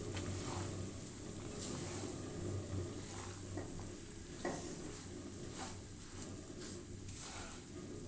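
Rice flour roasting and being stirred in a pan, a soft continuous scraping sizzle with repeated spoon strokes and light clinks, close and steady without any voices.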